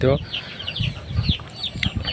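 Layer chickens on a poultry farm cluck in short, scattered bursts close by, with overlapping bird calls against a busy farmyard background.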